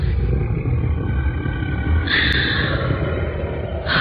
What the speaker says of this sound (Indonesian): terdengar suara hembusan nafas